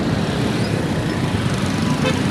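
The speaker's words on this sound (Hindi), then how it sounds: "बाकी ट्रैफिक है इसके वजह रुका हुआ है" A busy Karachi road fills the air with dense, constant traffic rumble and engine noise close by, with faint horn toots now and then.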